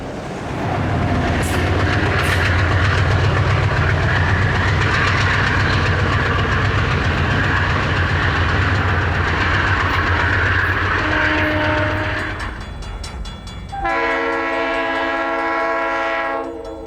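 A New Jersey Transit train with U-34CH diesel locomotives on each end rumbles steadily with deep engine drone and rolling clatter, then a loud multi-tone horn blasts near the end.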